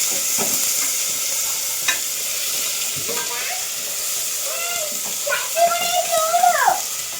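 Steady hiss of food sizzling in a hot pan, with occasional scraping and stirring and a few brief voices in the background.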